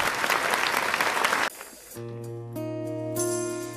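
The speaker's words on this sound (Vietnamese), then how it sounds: "Vỗ tay cho hai bạn nhỏ Minh Hằng và Ngọc Nhi" An audience at a children's singing contest applauds two young girl singers with dense clapping for about a second and a half, then the crowd noise falls away and sustained musical tones come in.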